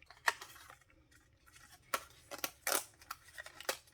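Scissors snipping through paper card for a fold-style greeting card, several crisp separate cuts close by, with a quick cluster of snips near the end and no talking.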